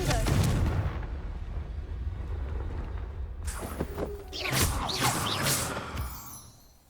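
A Confringo explosive spell goes off in Hogwarts Legacy: a rumbling low boom gives way to a sharp whooshing, crackling blast burst that fades out, set against steady game ambience.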